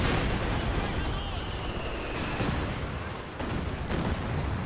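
A Katyusha rocket barrage in Company of Heroes 2 rumbles as a dense, continuous roar of blasts and gunfire, loud and sustained, with game noise layered throughout.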